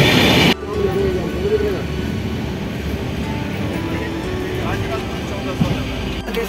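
A crowded passenger train runs on the way home from Prayagraj and Ayodhya, heard from inside a packed coach as a steady low rumble of wheels and carriage noise, with voices talking throughout.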